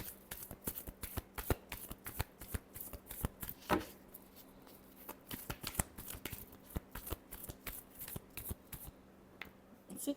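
Tarot cards being shuffled by hand, a dense run of crisp riffling snaps and flicks close up, steady through the whole stretch with no talking.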